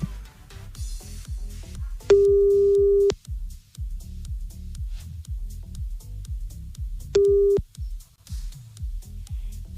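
A telephone line tone sounds while a caller is being rung back, with two loud, steady electronic beeps, the first about a second long and the second shorter, over rhythmic background music.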